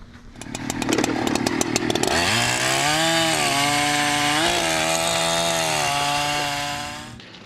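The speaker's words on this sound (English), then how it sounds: "a woman with a chainsaw" A chainsaw idles with rapid ticking, then roars up to a loud, sustained buzzing whine that wavers in pitch before cutting off.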